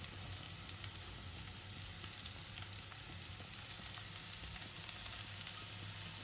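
Onions and curry leaves frying with salt in a pan, a loud, dense, continuous sizzle and crackle with faint stirring underneath, close up and steady throughout.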